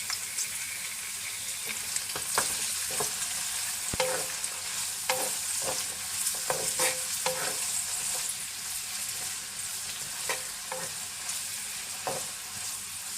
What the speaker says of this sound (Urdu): اس کو زیادہ نہیں فرائی کرنا ہے، بس تھوڑی دیر فرائی کرنا ہے۔